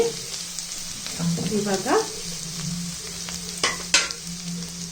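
Green chillies frying in a pan for Hakka noodles, a steady sizzle with scraping stirs and a few clatters of the utensil, while a voice speaks briefly over it.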